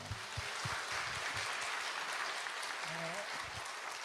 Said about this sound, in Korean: 정말 하나님께 영광의 박수 올려드립니다